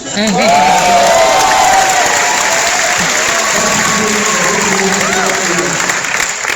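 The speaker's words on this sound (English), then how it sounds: "the best music today is your claps and applause" A large crowd applauds loudly and steadily at an RRR film talk in Hollywood, with cheers and whoops rising over the dense clapping throughout.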